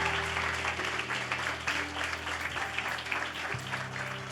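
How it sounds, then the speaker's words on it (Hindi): A church congregation claps hands in worship, giving a steady, dense wash of applause that lasts throughout, with a sustained musical drone underneath that shifts pitch near the end. "बजाओ ताली यीशु के नाम से."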